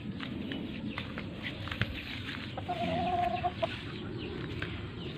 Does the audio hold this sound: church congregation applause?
no